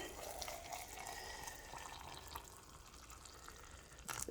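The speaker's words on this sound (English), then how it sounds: "I'll just pour some hot water on top of this" Hot water pours steadily over dandelions in a quiet room, a soft continuous trickle and splash that fades slightly before a brief clatter at the end.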